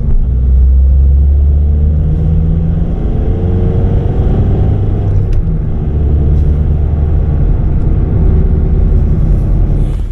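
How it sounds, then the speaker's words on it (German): An Opel Zafira A 2.0 DTI diesel car accelerates in second gear, its engine drone loud and close from the cabin, a steady rumble rising gently in pitch over about ten seconds with no talking. "was man ja mal zeigen könnte, ist das Beschleunigungsvermögen dieses Autos"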